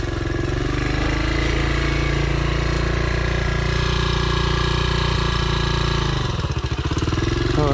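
A dirt bike engine runs steadily and loudly close by, holding a constant buzzing drone as a beginner rider named Nicole rides, with a brief dip and wobble in pitch near the end.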